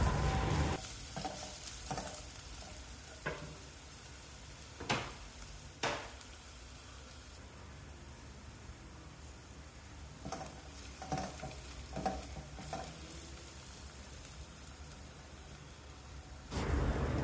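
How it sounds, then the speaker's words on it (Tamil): Half a cup of long-sliced onions sauté in a pressure cooker for a coconut-milk stew, with a soft continuous sizzle broken by sharp spoon clanks and scraping stirs, and no voices. "நீளமாக வெட்டின வெங்காயம் 1/2 கப் அளவுக்கு, ஒரு 30 செகண்ட்ஸ் வரைக்கும் வதக்கிக்கணும்."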